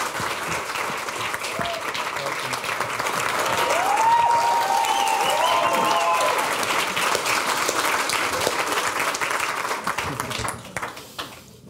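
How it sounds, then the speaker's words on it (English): An audience at an ocean and climate event applauds a speaker taking the stage, a loud sustained crowd ovation that swells in the middle, with a few voices and cheers mixed in before it fades. "Please give her a round of applause, Sylvia Earle."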